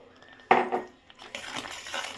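Bottle gourd halva is stirred in a metal pan over the stove, giving a sharp clink and a few light scraping knocks followed by soft, wet shuffling, close and fairly quiet.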